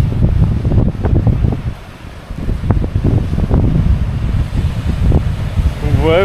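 Strong wind buffets the microphone beside rough sea waves at Kalandzha, the surf and gusts roaring loudly and continuously in uneven surges.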